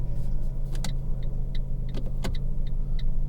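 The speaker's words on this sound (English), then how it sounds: "Start the engine." A Fiat 500 Pop engine idles just after starting, giving a steady close rumble with a few sharp clicks and ticks from the car over it.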